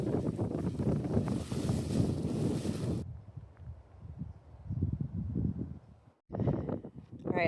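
Gusty wind buffets the microphone on a hiking trail in Angeles National Forest, a steady roar that drops away abruptly, comes back weaker in uneven gusts, cuts out for a moment, then rises again, with a voice talking over it.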